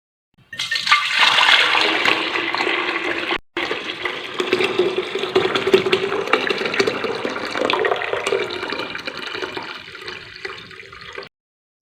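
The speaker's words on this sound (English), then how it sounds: "So now let's transfer our mint water into this glass jar." Mint water poured into a dry glass jar while making homemade mint wine: a steady, close splashing stream that runs for about eleven seconds, broken by one brief pause near the start.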